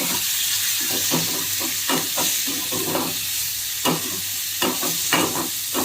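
Goat liver mixed with salt and turmeric is stirred in a pan, rhythmic scraping strokes over a steady sizzling hiss, close and fairly loud with no talk.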